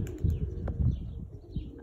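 Pigeons feeding in a backyard give soft, low cooing over a steady ambient rumble with faint chirps; a rabbit feeds nearby, and no voices are heard.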